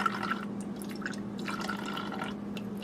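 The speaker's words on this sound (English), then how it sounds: "we're going to go ahead and just pour straight in" Liquid trickles and splashes into the jar of a Waring Xtreme Hi-Power blender, a soft, steady pour with light dripping, fairly faint and without talk.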